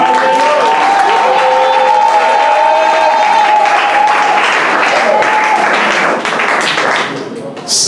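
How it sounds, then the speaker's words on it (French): A church congregation at a French-language ordination service applauds the offerings with sustained, loud, dense clapping that fills the space. Voices can be heard beneath it, and the clapping thins briefly near the end. "On dit d'acclamer pour les offrandes."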